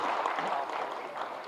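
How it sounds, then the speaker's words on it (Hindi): Audience clapping at an award ceremony held on an anti-drug day in Bihar, a steady, moderately distant wash of applause filling the whole brief moment. "तालियां बजे तो अच्छा लगेगा।"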